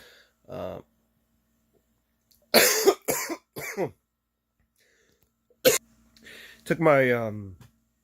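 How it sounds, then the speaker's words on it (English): A few sharp coughs in short bursts, then a harsher coughing spell with a throaty, strained sound, separated by silence. "I had a coughing fit there"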